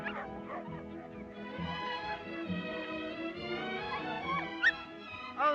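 A dog whimpers and yips in a string of high, wavering whines and short squeaky cries, fairly close and soft, ending with a sharper yelp.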